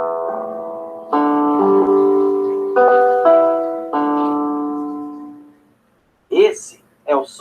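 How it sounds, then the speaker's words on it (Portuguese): An acoustic guitar strums a few sustained chords that ring and decay, followed by a brief burst of speech at the end. "Esse é o som de violão."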